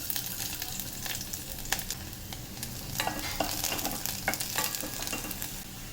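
Finely chopped garlic sizzles and crackles in hot oil in a pot, a steady frying hiss broken by a few sharper pops and soft stirring sounds, with no voices.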